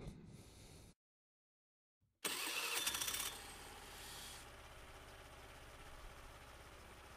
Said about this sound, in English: let's start this scooter up